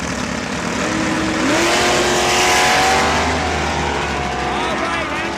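Drag racing cars, one a Camaro, launching in a Super Pro pairing at Saskatchewan International Raceway, with engine roar swelling to a peak and rising gear tones sweeping upward before easing off, while an announcer talks over it.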